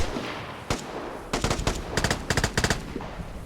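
Automatic gunfire in the multiplayer shooter Vigor, with several sharp bursts of rapid shots starting with a single crack, then repeated short volleys in quick succession. The shots sound moderately close and loud over a steady background hiss, with no voices.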